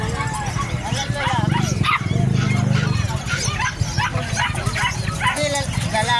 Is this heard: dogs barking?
yes